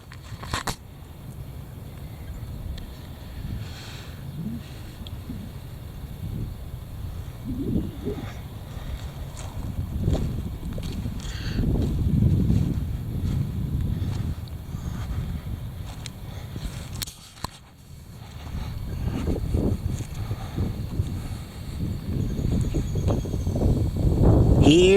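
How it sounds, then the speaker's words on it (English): Heavy wind buffets the microphone in steady low rumbling gusts that swell and ease, briefly dropping out near the middle before roaring back strongly. "The heavy wind."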